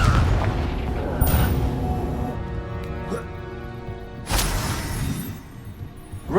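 Fiery spell explosions from the Confringo spell in Hogwarts Legacy, two heavy booming blasts a few seconds apart over rumbling game sound, with harmonic tones sounding between them.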